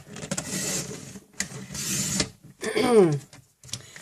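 A paper trimmer slices a sheet of cardstock in half with a few scraping, rasping strokes and a brief squeak near the end, close up and with no talking.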